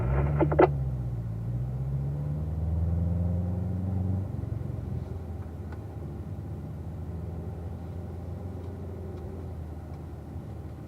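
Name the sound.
car driving a warm-up lap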